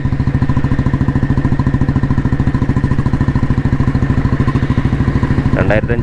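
An old restored Royal Enfield Bullet motorcycle with a CI engine runs steadily nearby with a fast, even, thumping beat, loud and unbroken throughout.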